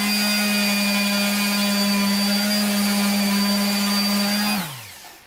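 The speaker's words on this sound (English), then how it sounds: "It's an orbital sander with 320 grit" An orbital sander fitted with 320 grit paper smoothing body filler in a car engine bay, a steady loud whine with a strong hum that runs alone before winding down at the end.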